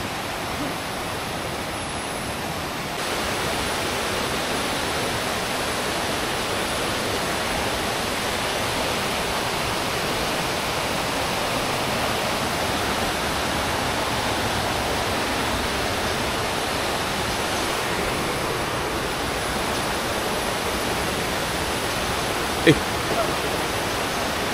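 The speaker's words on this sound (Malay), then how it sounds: "Saya boleh tengok air terjun di sini." A waterfall beside a road stop on a long scooter ride, its broad steady rush of falling water filling the air evenly and continuously, with one brief sharp knock near the end.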